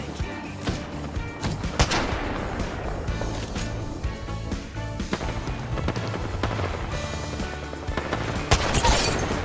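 Heavy sniper rifle shots from a Kraber in the Apex Legends battle royale game, sharp booming cracks over dense, busy game action and music, loud and continuous.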